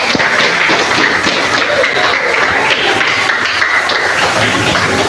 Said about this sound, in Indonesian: Beri tepuk tangan yang keras untuk Arya.